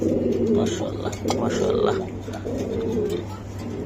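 Racing pigeons cooing softly in a loft, a few low murmuring coos under nearby conversation.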